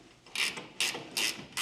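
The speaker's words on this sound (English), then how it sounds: "I don't know if my socket ratchet here is going to work" Socket ratchet loosening bolts on a 1960 Pontiac Bonneville's suspension during coil spring and ball joint removal: four bursts of rapid metallic clicking, close and fairly loud, separated by brief pauses, with no talking.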